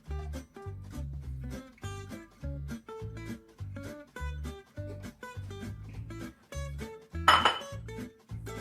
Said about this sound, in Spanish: Y lo ponemos a mezclar otra vez